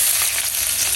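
Cumin, bay leaf, chopped onion and garlic fry in hot oil with a loud, steady, dense sizzle and no speech.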